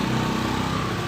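A Honda Beat FI motorcycle engine runs steadily, a close, continuous low putter with a buzzy mechanical edge and no talk over it.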